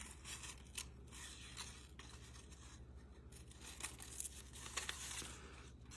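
Scissors snip through paper shapes with twisting cuts, producing a steady run of soft crisp snips and rustles at close range, with paper crinkling as the piece is turned.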